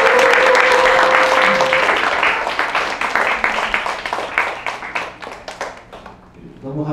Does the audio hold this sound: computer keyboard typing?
no